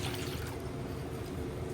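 Three cups of water are measured out for buko pandan, a Filipino dessert, making a soft continuous pouring and splashing rush with no voices.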